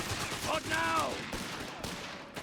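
Machine gun fire in the Company of Heroes 3 video game, rapid bursts and sharp cracks mixed with distant battle noise, loud and continuous, with a voice talking faintly underneath.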